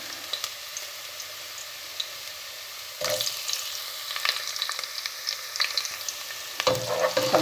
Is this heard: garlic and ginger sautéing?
yes